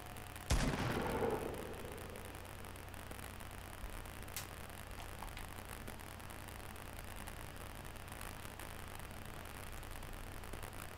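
A single sharp gunshot in a video game cracks out loud and close, then rings off into a long fading tail. Faint hissy background follows, with a small later pop.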